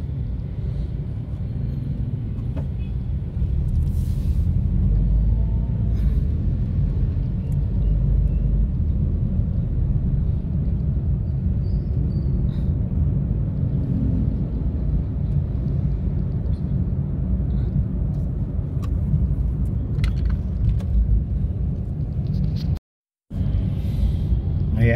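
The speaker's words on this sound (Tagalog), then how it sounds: "Traffic." Road traffic near Santo Tomas in the Philippines: a steady low engine rumble and road roar heard from inside a moving vehicle, continuous and fairly loud with a brief dropout near the end.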